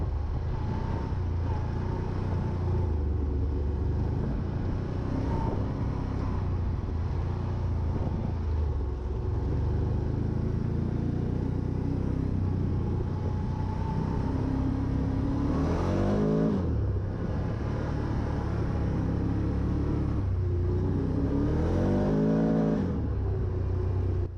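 A 2024 Can-Am Outlander 1000R Max XT four-wheeler is ridden in sport mode, its engine droning steadily and then revving up in two sharp, rising bursts with a rough mechanical rasp.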